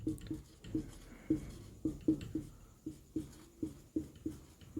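Chalk or marker strokes land on a board during a biology lesson on neuron structure. Short scratchy taps come in a steady, close rhythm of about a dozen strokes, with no speech over them.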